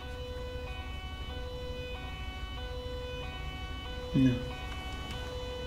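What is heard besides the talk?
ambulance siren in video game GTA 5 LSPDFR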